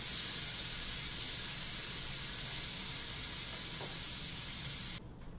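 Steady, loud hiss of steam venting from a pressure cooker's release button, continuous for about five seconds before cutting off sharply into a quieter background.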